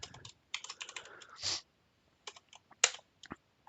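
Close, quiet typing on a computer keyboard comes in quick clusters of key clicks with brief pauses and a couple of sharper keystrokes, and no talking over it.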